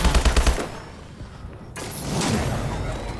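Rapid automatic fire from an HBRa3 rifle in Call of Duty Advanced Warfare, a short fast burst of loud close shots at the start, followed by quieter game ambience and mechanical noise.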